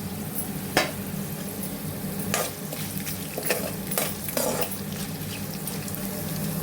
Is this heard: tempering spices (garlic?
yes